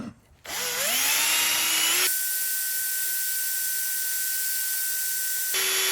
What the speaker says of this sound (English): And so you've got to have some kind of fluid, some lubricant. You can't just hone them dry like that.